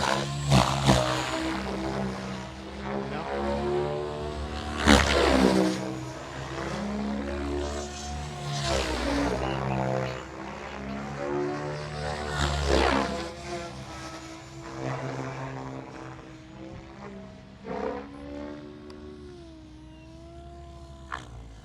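A radio-controlled helicopter flies and touches down at a TORCHS club field. Its engine drone and rotor whine run steadily throughout, fairly near, swelling and shifting in pitch as it manoeuvres, with no talk over it.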